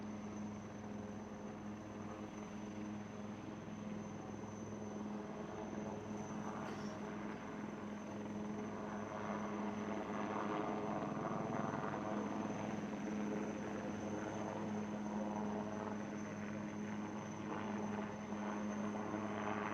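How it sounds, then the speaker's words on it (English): A helicopter drones steadily throughout, its engine hum and rotor rumble continuous and fairly close, with no talking, during a military Beating Retreat and Tattoo ceremony as marine commandos rope down from it. "the Marine commandos are lowered down from the helicopter into a hostile environment via a rope"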